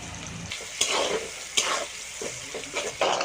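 Chopped onions fry with turmeric and salt for a masala mutton dish, sizzling loudly up close while a spatula stirs and scrapes the pan in repeated strokes; no one speaks.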